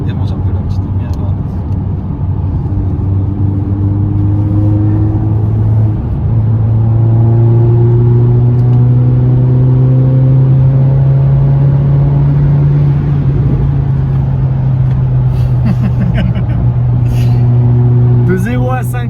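A Mercedes CLA45 AMG driving and pulling away, a steady engine drone that climbs gradually in pitch as it accelerates, heard from inside the cabin with people talking over it throughout.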